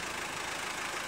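A car engine idles steadily and continuously at close range, a low even rumble with no voices over it.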